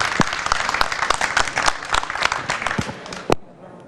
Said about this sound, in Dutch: Geef hem een groot applaus